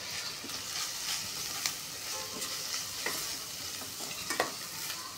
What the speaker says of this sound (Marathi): आता हे सगळं आपण एकदा व्यवस्थित मिक्स करून घेऊया